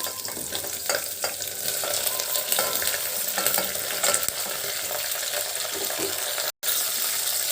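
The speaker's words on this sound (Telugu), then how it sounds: "ఇప్పుడు బెండకాయలు వేసేద్దామండి" Okra tossed into a hot pan with dried red chillies and curry leaves for an Andhra tamarind curry, stirred steadily with a spoon; a continuous close sizzle with scraping, broken by a brief cut near the end.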